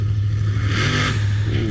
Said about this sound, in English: The dragster there with that classic supercharged sound, the idle rolling over and over.